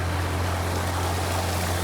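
Water gushing steadily from a farm tubewell motor, a continuous rushing splash with a low mechanical hum underneath, close and unbroken with no talking.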